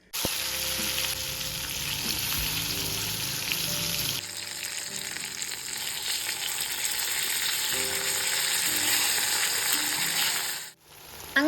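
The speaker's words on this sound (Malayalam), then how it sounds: "പിന്നെ സൈഡിലായിട്ട് മീനും കൂടെ പൊരിക്കുന്നുണ്ട്." Fish fries in hot oil with curry leaves, giving a loud, continuous sizzle close up with bursts of crackling spatter and a brief stirring break partway through.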